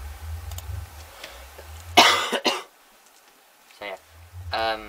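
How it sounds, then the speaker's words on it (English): A harsh close-up cough bursts out, followed by a second shorter one, with quiet room noise and a brief voice sound afterward. "And I got a cough again."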